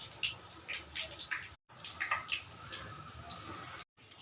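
Banana bajji fritters, sliced raw plantain in batter, frying in hot oil: a steady bubbling sizzle with crackly hiss throughout, alone and fairly close, broken by two brief dropouts.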